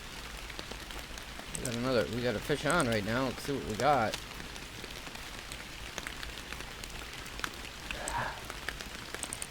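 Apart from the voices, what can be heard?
rain at Emerald Lake in video game Fishing Planet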